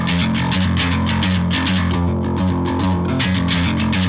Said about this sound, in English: for that modern high mid-range distortion that we need, I'm using dark glass